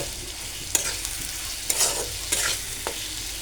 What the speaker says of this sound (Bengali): টমেটোগুলো আমি কিছুক্ষণ ভেজে নেব।